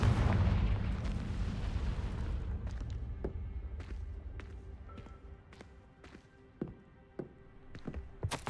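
Confringo fire spell in the video game Hogwarts Legacy, a heavy booming blast that decays away, followed by a series of sharp thuds and impacts spaced irregularly.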